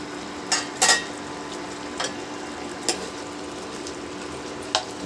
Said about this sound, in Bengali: ভালো করে আবার আমি নেড়ে দিলাম